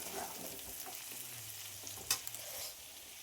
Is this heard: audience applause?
no